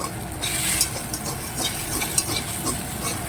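Chow mein noodles are stirred and tossed in a hot frying pan, with a continuous close sizzle and scraping stir strokes.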